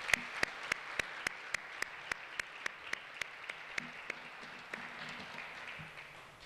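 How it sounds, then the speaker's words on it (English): Slow, evenly spaced claps ring out one at a time in a town government candidates night hall, sharp single hits repeating about every third of a second, fairly faint, then fading into a low murmur of the room. "they deserve a round of applause before we even hear one word from"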